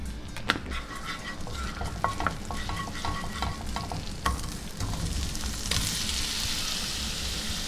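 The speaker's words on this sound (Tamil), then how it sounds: "இதே பேனில் பட்டர் கொஞ்சம் ஆட் பண்ணி கொஞ்சம் சில்லி ஃப்ளேக்ஸ் ஆட் பண்ணி இந்த வெஜ்ஜீஸ்லாம் நம்ம லைட்டாக அதில் டாஸ் பண்ணலாம்" Vegetables tossed with butter and chilli flakes in a frying pan give a steady close sizzle, with irregular scrapes and clinks of stirring in the first half and the frying growing brighter toward the end.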